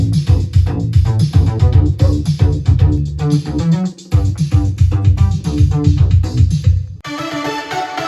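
A jammed bass part for a song rumbles loud and busy under a full, dense mix, with a brief dip midway and a brighter shift near the end. No one speaks.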